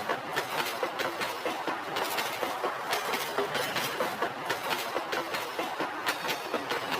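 A cartoon train arrives with steady clickety-clack rattling of wheels and carriages, a dense, continuous rumble that stays loud and close throughout with no voices.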